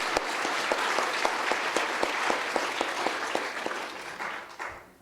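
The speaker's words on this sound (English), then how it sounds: "Let's give a round of applause for these sponsors." A gala audience at the 2012 South Asian Journalists Association event applauds its sponsors. The clapping is steady and moderately loud, with a few distinct sharp claps, and it thins out toward the end.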